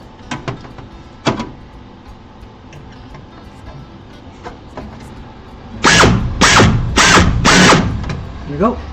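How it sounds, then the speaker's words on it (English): Short bursts from a drill working on an aircraft aft fuselage build: a few light taps early on, then four loud rhythmic drilling pulses near the end, with some quiet talk around them. "Now we just gotta be very ginger with the drill"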